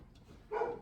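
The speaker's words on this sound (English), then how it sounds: "Hear my dog barking in there." A dog barks inside the cabin of a 1976 Starcraft camper, a single muffled bark arriving near the end after quiet background.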